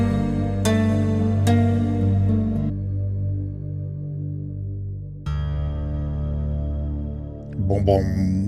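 An Atmosphere synth top layer plays alone, sustained pad chords with echoing, effected tones, a sharp retrigger around midway, and a brief voice near the end.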